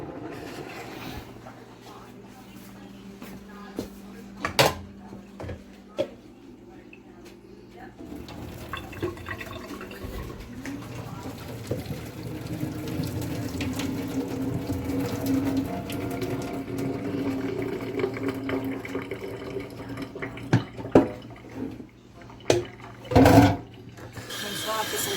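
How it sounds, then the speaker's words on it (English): Cooked bite-sized potatoes are drained in a kitchen sink, with water pouring in a broad, steady rush that builds midway, broken by a few clicks and clanks near the end. "so we're going to drain them"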